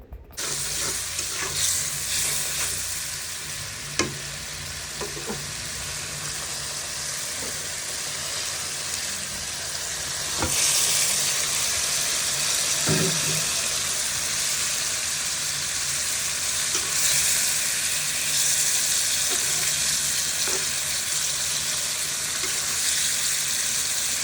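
Fish pieces fry in a pan with onions and spices, giving a long, steady sizzle close by. Scattered clinks and scrapes of a utensil come through, and the sizzle swells louder partway through.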